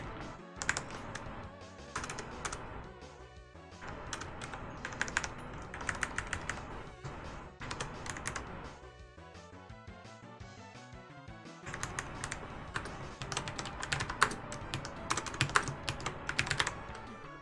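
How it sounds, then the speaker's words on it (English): Fingers type rapidly on a computer keyboard in bursts of dense clicking with short pauses between them, close and fairly quiet, with no talking. "I hate even typing this in"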